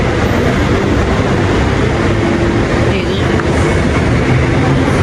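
A BTS Skytrain green line train at Siam station in Bangkok rumbles loudly and continuously, with faint rail clatter and a busy, crowded background where voices blend into the noise.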